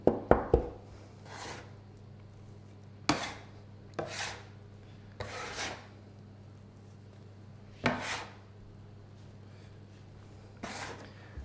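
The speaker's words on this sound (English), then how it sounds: "just start to mix everything together. So the dough scraper is really useful for this." A dough scraper working wet, sticky Pandoro dough in a bowl, heard as a handful of sharp, irregular knocks and scrapes separated by quiet pauses.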